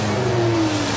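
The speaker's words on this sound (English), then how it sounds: "Rossi's Yamaha should have the legs on the Aleix Espargaro Suzuki" MotoGP racing motorcycles, a Yamaha and a Suzuki, accelerating on the Valencia circuit, a brief loud engine whine rising in pitch under no talk.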